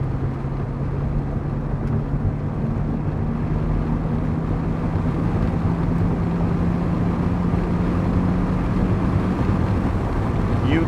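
Maserati MC20 Cielo engine with the roof up, a steady loud drone and low hum filling the cabin continuously throughout, no gaps.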